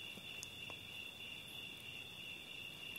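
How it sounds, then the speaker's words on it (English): Crickets chirp in a steady, high continuous trill at a distance on a quiet evening in nature, faint and alone with no voices. "The sound of the crickets, the sound of the hummingbirds, the sounds of nature, those are relaxing."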